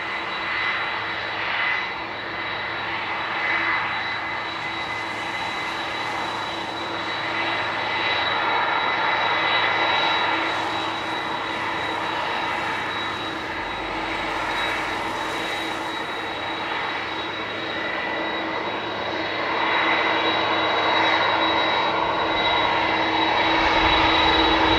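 A Qantas Airbus A330-300 landing on runway 34R at Narita, heard as a steady, loud roar of jet engines with a persistent high whine that swells slightly over about twenty-five seconds, no voices.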